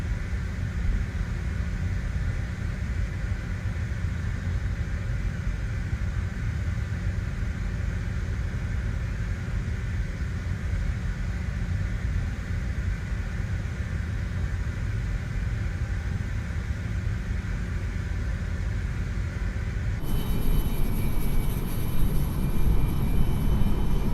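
A CRJ700 regional jet in a flight simulator game starts up: a steady low cockpit rumble and hum persists, then a high, thin engine whine joins in near the end, with no talking.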